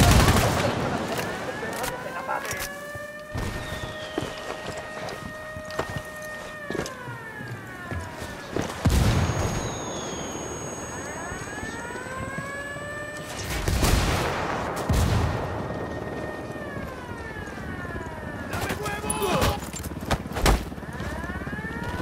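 Gunfire in Ghost Recon Wildlands comes as scattered sharp shots and bursts, several of them loud, amid sirens and other game effects over about twenty seconds.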